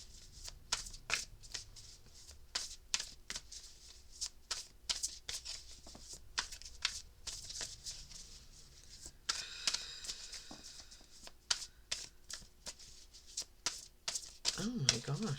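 A tarot deck is shuffled by hand in repeated crisp riffling bursts, close and clear, with short pauses between runs and a denser flurry of card slaps toward the end.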